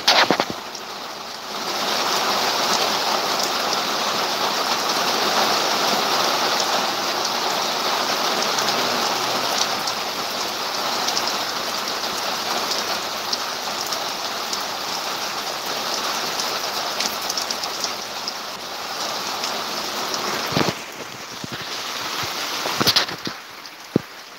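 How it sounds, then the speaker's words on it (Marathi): Steady rain falling in Dodamarg, a continuous broadband hiss of drops that holds at an even level throughout, with a few sharper drips near the end and no voices. "पाऊस पडता तो."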